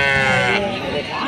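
Sheep bleat at a weekly sheep and goat market in Gudur: a loud, close, wavering bleat fills most of the moment, with people talking alongside.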